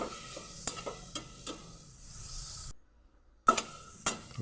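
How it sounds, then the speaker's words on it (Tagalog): Onion, tomato and vegetables are stirred in a pan over a soft sizzle, with a string of spaced utensil clacks against the pan, a brief silent gap, then more scraping knocks. "Halu-haluin lang natin."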